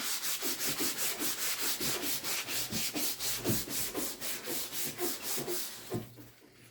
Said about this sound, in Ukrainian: А всю решта шкіру проходитись наждачкою на поролоні.